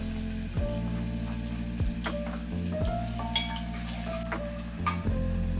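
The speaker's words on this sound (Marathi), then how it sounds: "त्यानंतर फोडणीत टाकणार आहोत थोडंसं हिंग," Hot oil sizzles and crackles steadily in a pan as asafoetida goes into a tempering, with occasional stirring scrapes and clinks over a constant low hum, close and without speech.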